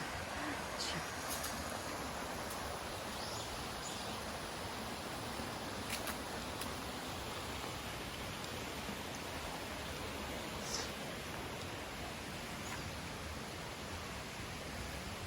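Rushing water pours steadily from a waterfall-like sluice gate in a wooded spot, a broad, even roar holding constant with faint birds or wind on top.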